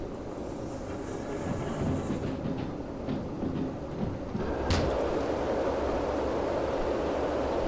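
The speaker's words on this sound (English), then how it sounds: "I have the big locomotive. Big American style locomotive" Big American-style locomotive running in the Derail Valley train game: a steady low rumble with broadband hiss that grows louder halfway through, with a sharp hissing burst, and continues as a constant engine drone.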